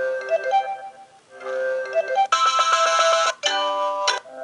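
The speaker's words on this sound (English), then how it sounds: "You get a whole different list of ringtones, which I tend to like these ones better." Android phone ringtones on an AOKP Jelly Bean ROM play in turn, several short electronic melodic tones and chimes, clear and alone, switching between tunes.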